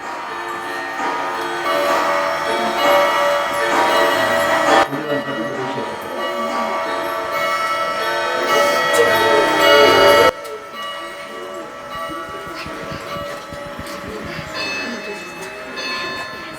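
Bright bell-like chimes of a clock that chimes every fifteen minutes ring out repeatedly over a soft ticking, with a busy, resonant indoor tone in a home clock museum and the chiming fading partway through.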